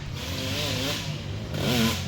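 A kids' motocross dirt bike crests a hill during a cross-country and motocross race at Renlow, its engine revving and rising in pitch in two surges, moderately close.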